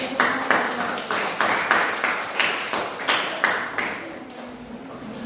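A group of students in a classroom claps for a presenting group, the applause coming in rhythmic bursts of fairly loud, unison claps that repeat steadily before tapering slightly.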